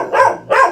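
A Donggyeong Korean native dog puppy gives two quick, close barks in rapid succession.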